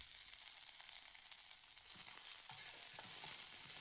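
Onions and spices sizzle in hot oil for palak rice, a dense, steady hiss close to the pan, with faint stirring scrapes breaking in during the second half.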